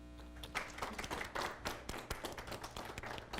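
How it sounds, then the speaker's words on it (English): A small audience at a book presentation claps for author Samuel C. Spitale, with irregular, uneven hand claps rather than a full roar, heard over a low steady hum. "First, let's give a round of applause for Samuel."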